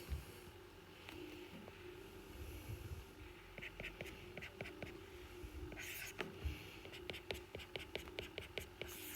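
Marker or pen writing out a linear regression equation on a board, with quiet scratchy strokes and a run of quick tapping dots near the end, close but faint.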